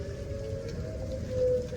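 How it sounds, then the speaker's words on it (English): Tornado warning sirens wail steadily in the distance during severe weather, a faint sustained tone that rises slightly in loudness near the end, with no talking. "tornado sirens"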